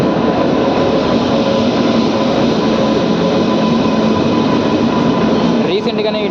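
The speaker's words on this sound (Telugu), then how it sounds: "Mumbai LTT to Visakhapatnam express వచ్చేస్తుంది" Mumbai LTT to Visakhapatnam express pulls into the platform, a dense continuous roar of wheels and coaches at close range, with a brief clattering burst near the end.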